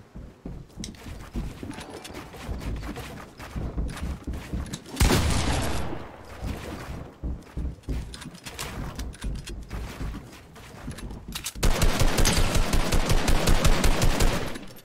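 Rapid automatic gunfire in a Fortnite match, aimed at a player-built structure. Dense bursts of shots crackle in long runs, growing loudest and most continuous toward the end.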